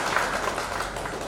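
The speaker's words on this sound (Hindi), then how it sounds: "एक बार जोरदार तालियां हो जाए सूर्या के।" An audience applauding a young poet named Surya at a Hindi literary event in Patna, with a dense, steady wash of clapping from many hands filling the whole short moment.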